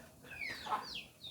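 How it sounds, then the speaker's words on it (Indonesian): Chickens clucking nearby, a mother hen with her small chicks, giving a few short chirping peeps and soft clucks over about a second, faint and close against a quiet yard. "Ada ayam kecil, ada maknya."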